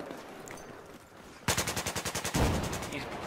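Automatic rifle fire in the Battlefield 4 multiplayer shooter, likely a suppressed AK-12, comes as a sudden close burst of about ten rapid, evenly spaced shots followed by a heavier boom, after a stretch of quieter game background.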